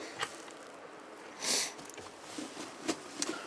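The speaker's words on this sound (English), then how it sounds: "I sniffle a lot" A person sniffling in the cold outdoors by a river in Montana in autumn, with a few short, close nasal sniffs, one longer and louder in the middle, over quiet background.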